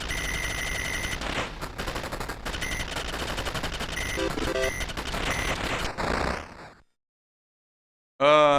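Rapid, continuous gunfire from the arcade shooter 1942 over a looping game soundtrack, the stream of shots cutting out into silence before a chiming game tone returns.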